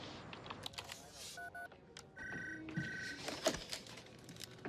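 An office telephone dials out to connect a call, sounding several short keypad tones in quick succession, mixed with faint handset clicks and handling noise.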